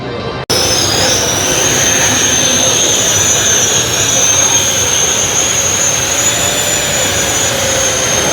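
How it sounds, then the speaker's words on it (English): A MOVA Pilot 70 drone carrying a robot vacuum starts up after a brief silence and flies with a loud, steady, high-pitched whine and rushing hum that holds close and constant. "This is the Pilot 70. So it's a drone that's carrying a robot?"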